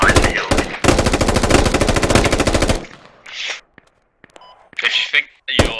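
Rapid automatic gunfire in the military shooter Squad, a loud sustained burst that cuts off abruptly, followed by scattered distant shots and bursts of noise.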